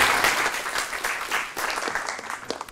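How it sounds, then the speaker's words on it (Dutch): An audience at a public hospital lecture on burns applauds the incoming speaker, a close, dense round of clapping that gradually thins out over a few seconds. "Mag ik een applaus voor Leo Bolhuis?"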